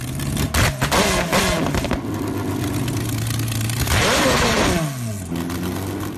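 A big V12 LS engine, 9.5 litres, idles with a steady throaty rumble, then revs up and falls back, its pitch sweeping upward and down once, heard close and alone.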